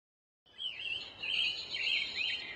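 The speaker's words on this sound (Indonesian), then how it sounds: "Kacer atau magpie robin, disebut peneliti burung dengan kucica." An oriental magpie-robin (kacer) sings alone, close and clear, in a continuous warbling phrase of rising and falling whistles.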